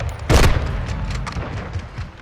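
A single heavy blast in Modern Warfare 2 on the Shipment map, one loud booming hit near the start followed by a few fainter thuds and crackles as it dies away.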